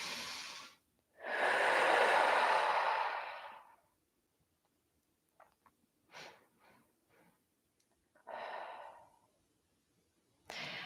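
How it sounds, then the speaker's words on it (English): Slow deep breathing during an energy balancing exercise, a long loud close exhale followed by quieter sniffs and short breaths, then another audible breath out, with silence in between. "Couple of nice deep breaths."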